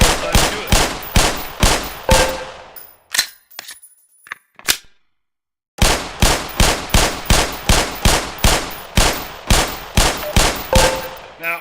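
Rapid single gunshots fired at shooting range targets in Black Mesa, a steady rhythmic string of loud, close reports, then a short gap with a few reload clicks and near silence before the regular shots resume.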